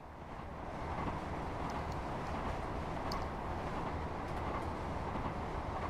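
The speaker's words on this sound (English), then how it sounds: "So we charge along on the little Scotrail 158 being delivered to Haymarket." A Scotrail Class 158 diesel train in Train Sim World rumbles along steadily with a dense, broad roar and faint rattles on top, close and continuous throughout.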